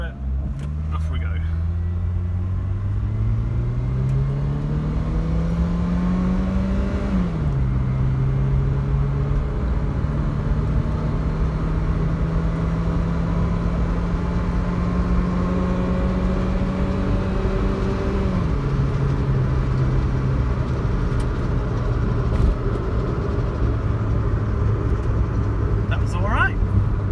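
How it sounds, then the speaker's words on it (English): A Nissan Figaro's small engine hums steadily, its pitch climbing as it accelerates, dropping twice at gear changes before rising again. "Put some revs up a little bit. Off we go."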